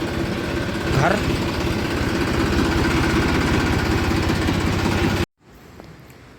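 A farm tractor engine idling with a steady, loud mid-range rumble for about five seconds before cutting off abruptly, leaving faint background noise and a brief voice.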